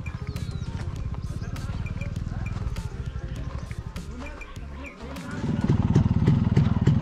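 A Yezdi Roadking motorcycle engine thumps in a rapid, even idle rhythm close by, then revs louder toward the end, with someone talking over it.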